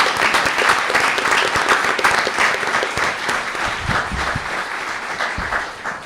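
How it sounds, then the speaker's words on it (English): A sustained round of applause at a county board of education meeting congratulating two students, a full, dense crowd clapping loudly and evenly that tapers slightly toward the end. "let's give them a round of applause"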